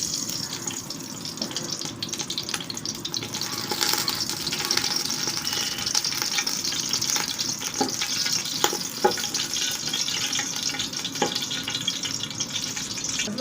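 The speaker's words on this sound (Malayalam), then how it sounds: "അതിലേക്കൊരു കുറച്ച് ഡാൽഡ, അതുപോലെ തന്നെ കുറച്ച് സൺഫ്ലവർ ഓയിലും ആഡ് ചെയ്ത് കൊടുക്കുക." Dalda and sunflower oil heat in a pot with a steady soft sizzle and bubbling, plus occasional clinks and stirring sounds, fairly quiet with no talk.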